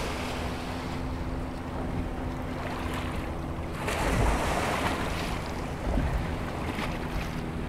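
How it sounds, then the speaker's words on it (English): Wake from passing cruisers slaps against a small fishing boat on the St. Lawrence River, with steady water wash, wind buffeting the microphone, a low hum and two heavier surges of splashing, with no voices. "we actually had waves almost come over the bow 2 seconds ago"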